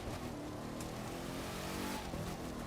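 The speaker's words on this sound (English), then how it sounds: "I noticed the engine seems to have a unique sound to it compared to other raid vehicles." The engine of a Jeep Moab Quicksand Concept raid vehicle in The Crew 2 video game hums steadily, a low, fairly quiet drone with a brief swell near the end and no speech.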